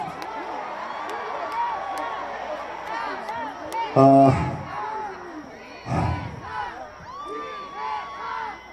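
An outdoor concert crowd in Goseong cheers and shouts for a trot singer, whoops and roars rising in loud bursts near the middle, with voices talking and calling throughout.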